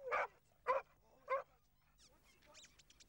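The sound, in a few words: dog barking during rescue dog training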